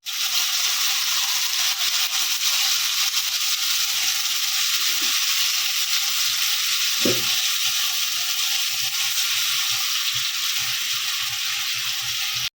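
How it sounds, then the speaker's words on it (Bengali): Steady, bright sizzling of paste frying in a hot pan, continuous and fairly loud, with a brief clink of a utensil partway through. "মশলাটাকে হালকা ভেজে নিই কষিয়ে নিলাম"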